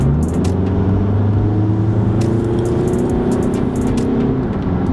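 A 2015 VW Jetta TDI turbo diesel accelerates hard with a loud, steady engine drone and rising whine that builds continuously, close and alone with no talk.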